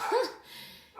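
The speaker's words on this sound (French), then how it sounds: "je suis désolée pour le scandale de mon petit chien." A small dog gives a single quick, high bark, close and loud, that fades into a brief whimpering tail.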